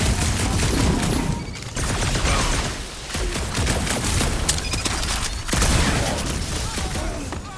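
Dense, sustained gunfire and blasts fill a chaotic firefight in the Guardians of the Galaxy video game, loud and continuous, with brief lulls and voices faintly under the barrage.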